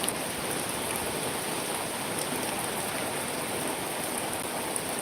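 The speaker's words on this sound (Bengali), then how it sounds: "এরকম ভালোই বৃষ্টিটা হচ্ছে।" Steady rain falls without a break, a dense even hiss close by with no voices.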